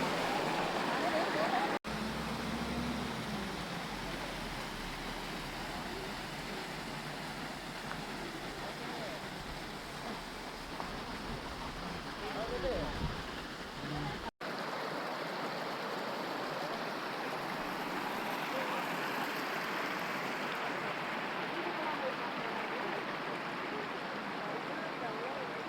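Water rushes past a road culvert on the Passara–Badulla road after a landslide, a steady, close roaring flow that continues without a break.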